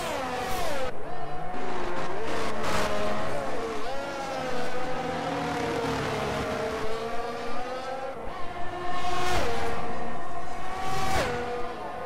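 Formula 1 cars racing in a video game at Bahrain: several high-pitched engines whine and shift gears as cars pass close, pitch sweeping up and down, with commentary running underneath.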